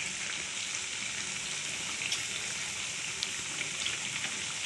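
Karpooravalli leaves dipped in bhaji batter fry in hot oil with a steady, close crackling sizzle that runs without a break.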